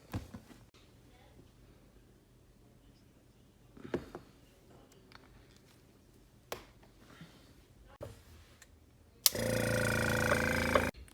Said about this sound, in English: I'm gonna go ahead and add that to the airbrush and get right to spraying.